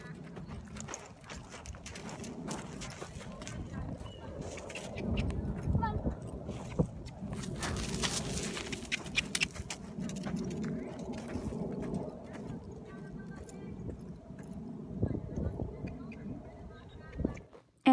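Horse loose in a lunging area after the lunge line comes off its halter, hooves thudding and scuffing in an irregular run under steady outdoor noise, with a person talking throughout.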